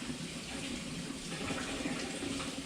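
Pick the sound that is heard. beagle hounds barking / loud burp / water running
water running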